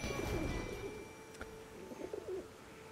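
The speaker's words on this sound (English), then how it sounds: "Is this a pigeon?" Pigeon cooing in the video game Elden Ring, soft low coos repeating over a steady humming ambient game background with a faint tonal drone.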